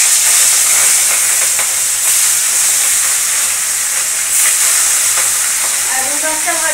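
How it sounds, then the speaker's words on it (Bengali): Mola fish fry in a pan on the stove, giving a loud, steady sizzle and hiss that runs unbroken with faint stirring scrapes and no talk. "এই ওভেনে তো মলা মাছটা ভাজা হচ্ছে, আর এই ওভেনে দিয়ে দিই রুই মাছ।"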